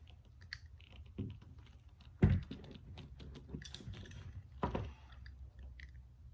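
A utility knife cutting through the outer housing of a damaged RV electric power cord, close-up scraping and clicking strokes with a few louder slicing bursts, fairly quiet with no talk.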